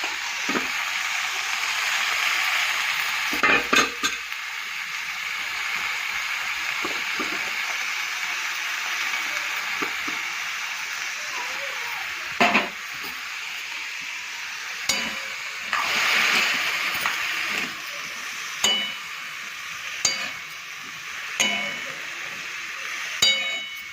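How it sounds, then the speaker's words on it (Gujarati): Green chillies frying in a pan, a steady close sizzle lasting throughout, broken by occasional clanks of a utensil against the pan. "એમાં આપણે નાખી દઈએ લીલા મરચાં પહેલાં. મસ્ત બધું શેકાઈ જાય"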